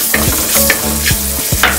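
Cumin, turmeric, coriander powder and chopped green chilli sizzle in olive oil in a kadai, with a spoon scraping and stirring in a steady rhythm of repeated strokes over the frying, loud and close.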